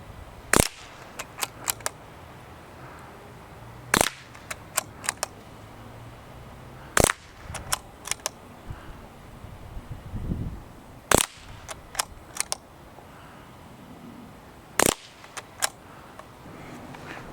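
Gunshots from plinking at a Caldwell Target Turner outdoors, sharp single cracks every few seconds, each followed by a cluster of fainter metallic pings and clicks, with quiet gaps between.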